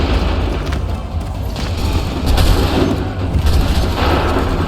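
A volley of musket gunfire in the Assassin's Creed 3 video game, a dense continuous roar of shots and booms lasting throughout, loud and close with battle noise layered over it.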